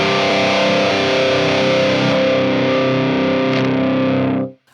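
Electric guitar heavily saturated with a solo boost pedal engaged, a sustained distorted chord ringing loud and steady through a multi-effects setup before cutting off abruptly near the end.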